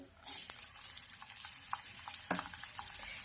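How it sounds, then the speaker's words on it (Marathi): Cumin seeds and finely chopped garlic frying in two spoons of oil in a wok for a cabbage dish, a soft, fairly quiet sizzle with a few light crackles and faint clinks of stirring. "जिरे लसूण थोडासा फ्राय झालेला आहे"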